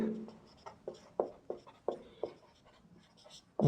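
Chalk or marker writing on a board during a classroom lesson, a series of short scratchy strokes in an irregular rhythm, close and fairly soft, with no talk over them.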